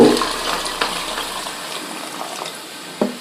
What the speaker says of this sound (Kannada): ಏಳು ಕಪ್ನಷ್ಟು ಬಿಸಿ ನೀರನ್ನು ಹಾಕ್ಕೊಳ್ತೀನಿ ನೆನಪಿರಲಿ ಬಿಸಿ ನೀರು ಹಾಕ್ತಾ ಇರೋದು